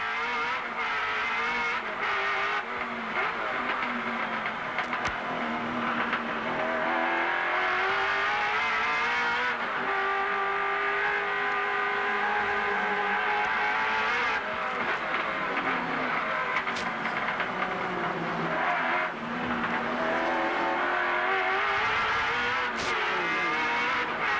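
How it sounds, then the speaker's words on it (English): Onboard a Holden Commodore race car at the 1991 Wellington street race, a loud sustained engine roar rising and falling through gear changes, revving up and easing off for corners, with faint tyre squeal and no talk. "Peter Brock at the moment, his quickest lap has been a 1:29 on the road in the Holden Commodore"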